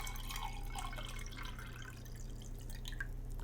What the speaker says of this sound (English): I'm pouring some water